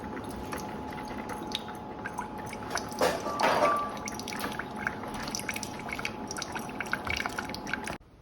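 A Keurig coffee brewer runs a 12-ounce cleaning brew, giving a steady stream of close dripping and trickling liquid with faint machine hum throughout, ending abruptly.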